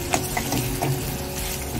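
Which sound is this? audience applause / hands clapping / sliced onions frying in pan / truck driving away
sliced onions frying in pan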